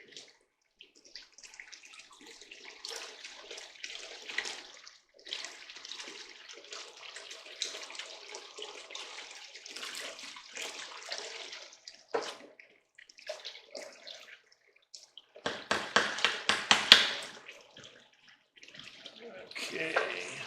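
A water pump for gold screening runs wide open, giving a steady rushing, splashing flow of water throughout with a louder surge near the end, while a person talks over it.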